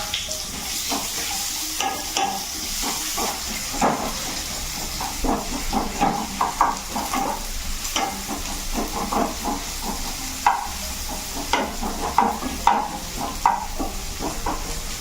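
Onions sizzle steadily in a clay pot for village-style moong dal dalma, a constant close frying hiss with frequent scraping stirs of a spoon throughout.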